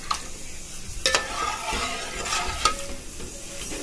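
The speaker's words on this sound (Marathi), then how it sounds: "आता आपण हे छान प्रकारे असं मिक्स करून घेऊया।" Dal fry with added water is stirred in a pot, giving soft wet scraping and sloshing with a light simmering sizzle and a few brief clinks of a spoon, close and unhurried, no voices.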